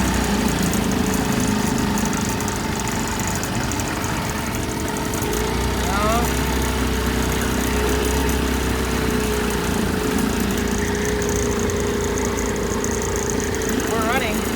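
A 1980 Chrysler Sea King 15 horsepower outboard motor runs steadily at a rough, uneven idle, heard up close, with occasional speech over the engine drone.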